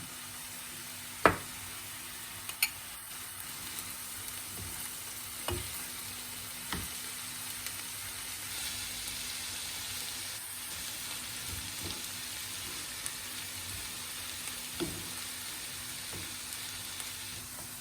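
A spoonful of butter melts in a hot pan while making içli köfte, giving a steady soft sizzle and crackle throughout, broken by occasional sharp taps and pops.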